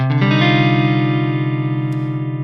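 A single guitar chord rings out loud and sustained, its open strings shimmering and slowly fading, heard on its own.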